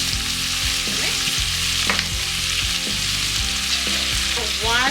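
Oregano and parsley fry and get stirred in a Dutch oven for chicken soup, making a loud, close sizzle. Repeated scraping stirs and utensil knocks cut through the hiss, with no talking.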